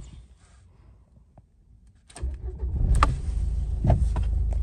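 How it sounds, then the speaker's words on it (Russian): A 2012 Renault Duster engine starts with a short cranking burst and catches. It settles into a steady, fairly loud idle heard close up, with a few brief clicks and bumps over the running engine. "Давайте запустим автомобиль."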